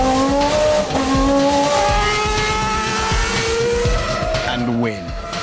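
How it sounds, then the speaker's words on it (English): A Formula 1 race car roars loud and close, its engine note climbing in rising harmonic sweeps through gear changes, with a brief tyre squeal or skid near the end and a voice talking over it. "an F1 car accelerates to the kinds of speeds at which a jet aircraft takes off"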